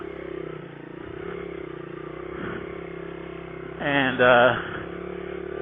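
A 1990 Honda XR100 dirt bike riding through ruts, its engine a steady mid-pitched drone with small surges, heard close under someone talking.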